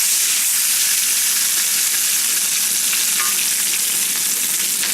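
Green beans and green onions stir-fry in a cast iron wok, a loud, dense, continuous sizzle close by with faint stirring underneath.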